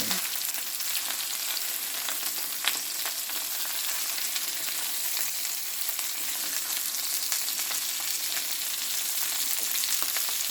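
Salmon fillets frying in a pan for garlic butter lemon salmon: a constant bright, dense sizzle with scattered small pops and crackles, close and even throughout, with no one speaking.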